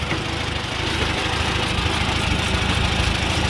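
A Farmall tractor engine idles steadily with a low, even rumble and a continuous mechanical clatter, loud and close, with no voices.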